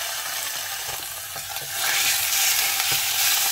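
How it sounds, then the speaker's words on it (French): Garlic and meat frying in olive oil in a pan, a steady close sizzle with occasional stirring scrapes, growing louder partway through, with no talking. "je fais revenir de l'ail. Et je fais revenir aussi de la viande."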